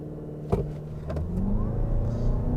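A 2023 Toyota RAV4 Woodland Edition hybrid accelerates uphill, a moderate engine and motor drone rising in pitch after a brief thump, heard from inside the cabin with road noise beneath.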